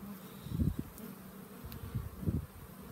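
Low droning buzz of honeybees at an opened hive rises and falls in a few close swells, with a steady hum between them.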